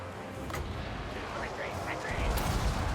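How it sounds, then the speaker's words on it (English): Poison Wind Mortars firing during a Total War: Warhammer 2 battle, heard as dull low booms and scattered bursts over a steady rumble of battle noise, with a heavier thump swelling near the end. "we're going to target our Poison Wind Mortars up here"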